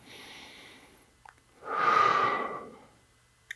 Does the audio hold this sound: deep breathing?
yes